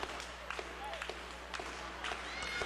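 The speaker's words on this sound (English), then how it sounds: "you can hear the crowd" Wrestling crowd at an indie show in Calhoun cheering and shouting behind a tag team, a steady distant roar of voices with scattered claps and stomps throughout.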